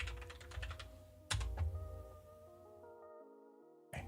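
Fingers type on a computer keyboard in rapid bursts of close key clicks, with one louder clack partway through before the typing stops, over a quiet sustained tonal background.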